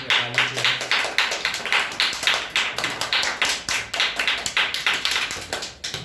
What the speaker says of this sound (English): Clap for Ayush.